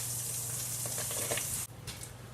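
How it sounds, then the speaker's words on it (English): Gluten-free gnocchi sear in a hot skillet with a loud, steady sizzle that cuts off sharply near the end, then gives way to a fainter crackle. "Let them brown and sear until they get a little bit golden on one side."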